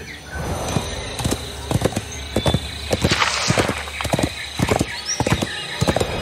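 Horse hooves clip-clop in a steady walking rhythm, close and clear, inside a hidden object video game. A horse whinnies, with faint background ambience throughout.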